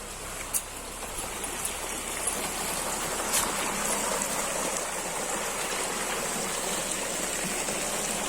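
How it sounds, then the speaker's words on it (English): A river runs steadily beside a natural pool in the Colombian countryside, a constant rushing wash of water with no voices. "Here's my first river here."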